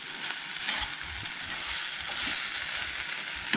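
Ingredients for Goan-style mixed dal tadka frying in a pan, a steady close hiss and sizzle of hot oil with faint stirring crackles, continuous and moderately loud with no talking.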